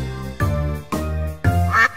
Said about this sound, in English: A duck is in the barn,